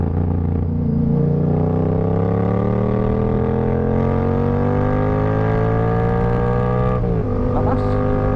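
A Yamaha MT-07 motorcycle engine hums steadily while riding, its pitch climbing smoothly through a long pull before a brief dip near the end, loud and continuous with wind noise.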